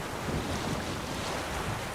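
Boat sailing across water in The Witcher video game: a steady, unbroken wash of waves and wind noise, loud and even throughout with no talk.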